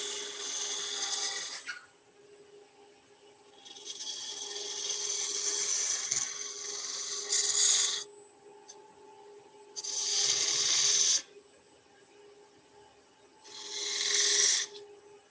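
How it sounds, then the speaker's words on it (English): A spindle gouge rolling a bead on spinning wood on a wood lathe, with four rasping cuts of a couple of seconds each, separated by pauses where the lathe's steady hum carries on alone. "Back to a spindle gouge, and we'll roll the bead."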